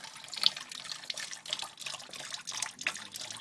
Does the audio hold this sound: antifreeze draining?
yes